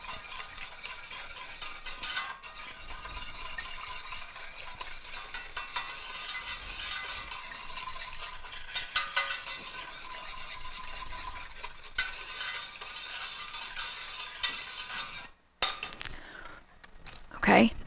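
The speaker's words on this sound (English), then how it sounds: "we're going to whisk all that together" A whisk scrapes and swirls steadily against a metal saucepan for a long stretch, mixing bread pudding custard with a continuous rapid rasping and brief pauses.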